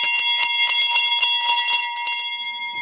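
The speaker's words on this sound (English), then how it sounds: "Click that big bell. Ding!" A bright bell ding sound effect rings out loud and alone in a rapid series of metallic strikes, its sustained tones holding steady and slowly fading toward the end.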